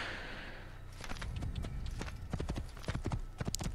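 Hooves of a white horse clip-clop in a steady walking rhythm in the Assassin's Creed video game, starting after a short quiet opening and staying close and distinct with light background ambience.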